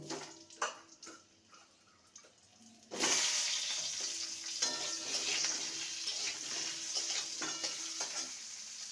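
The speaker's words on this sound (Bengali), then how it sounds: "এখানে আলু নিয়েছি দুটো মিডিয়াম সাইজের আলুকে ভেজে নেব" Two medium potatoes fry in mustard oil in a wok for a vegetarian matar dal dish, a quiet start giving way at about three seconds to a loud, steady sizzle with crackling that continues to the end.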